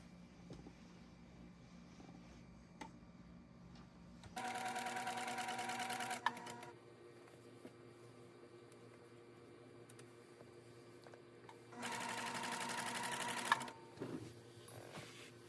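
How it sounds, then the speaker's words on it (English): A sewing machine stitches around a square of fabric to attach Lycra or spandex while repairing a bra, running in two steady bursts several seconds apart with quiet pauses between. "I'm just taking the fabric and I'm sewing around in a square just to attach the Lycra or spandex"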